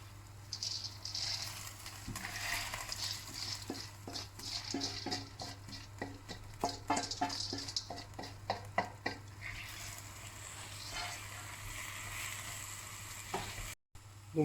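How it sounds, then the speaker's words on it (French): Lentils tipped into a hot pan of sausages, setting off a loud rattling patter and sizzle that crackles densely for several seconds before easing into a softer steady fry, with no talking. "vous baissez le feu et vous ajoutez vos lentilles."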